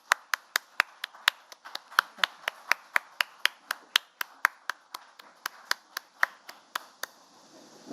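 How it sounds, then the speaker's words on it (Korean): Clapping to welcome the National Assembly Speaker at a press conference: sharp, evenly spaced claps at a steady quick rhythm, crisp and fairly near, with a quiet room behind and no talking. "박수로 환영해 주시기 바랍니다."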